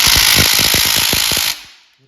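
A loud power tool rattles in rapid, steady bursts while an MGB engine is stripped down in a garage, then cuts off abruptly and rings down into quiet.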